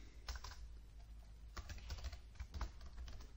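Steady typing on a computer keyboard, close and fairly quiet, with clusters of quick key clicks separated by short pauses.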